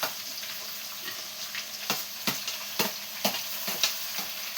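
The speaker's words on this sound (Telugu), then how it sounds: "కరివేపాకు వేసేసుకుందాం." Curry leaves, onions and green chillies fry in a pan, with a continuous close sizzle and repeated sharp spatula scrapes against the pan at a steady pace.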